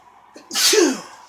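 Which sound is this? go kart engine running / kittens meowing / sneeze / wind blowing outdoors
sneeze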